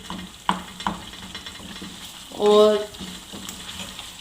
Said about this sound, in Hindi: अच्छे से भुनाई करेंगे मसालों के साथ।